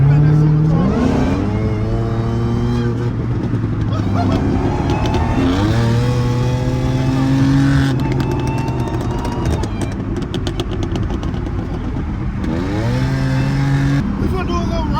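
A supercharged car engine on a highway revs and accelerates through several gear shifts, its pitch climbing and stepping down repeatedly. The engine is close and loud, with talking over it.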